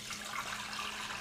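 Four cups of warm water poured for Ezekiel bread, a steady hissing, splashing stream with no breaks, quiet and close.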